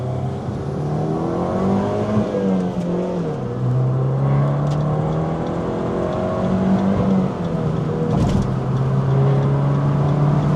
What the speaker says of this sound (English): Just so fun to roll through the gears in this car.